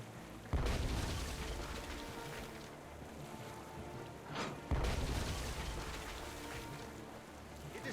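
Cannon fire in the video game Tales of Monkey Island lands as two heavy booms a few seconds apart, each followed by a rolling, surf-like wash, over a quiet background of sea and creaking boat ambience.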